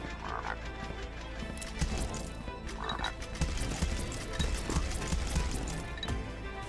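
Frog croaks from the Vampire Hunters video game, a passive-weapon pickup, repeating in short bursts over busy, dense game effects and music.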